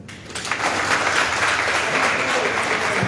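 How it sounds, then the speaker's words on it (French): Audience applause at a social media training session, a dense steady wash of clapping that starts abruptly and holds loud and close throughout, with faint talk mixed in. "Et comment ne pas applaudir encore une fois ce monsieur?"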